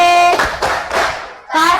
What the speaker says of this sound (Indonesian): Beri tepuk wow-nya dulu, tepuk wow.